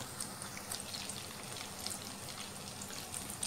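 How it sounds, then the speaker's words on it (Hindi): Vegan donuts frying in oil in a frying pan over low-to-medium flame, giving a steady close crackling sizzle with scattered small pops throughout. "डोनट्स को फ्राई करने के लिए हमने फ्राइंग पैन में डाल दिया है।"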